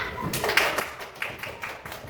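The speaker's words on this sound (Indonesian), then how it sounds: "beri tepuk tangan untuk kelompok 3" A class applauds a student group after its presentation in a coding and artificial intelligence lesson, a brief, light patter of scattered claps at low level with no speech.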